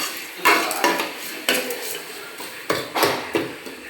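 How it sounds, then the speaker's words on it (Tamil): A spoon stirs tomatoes and onions in a cooking pan, striking the metal in repeated clanks about every half second over a low sizzle, close and fairly loud. "நல்லா கிண்டி விட்டுக்கணும் தக்காளி தக்காளியெல்லாம் மசிஞ்சு வரும்"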